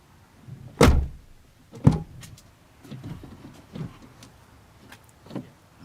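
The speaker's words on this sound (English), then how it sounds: "And then I'm going to close the door" The rear door of a Dodge Ram pickup swings shut with two solid thumps, followed by softer clicks and light handling noises inside the cab, close and without talk.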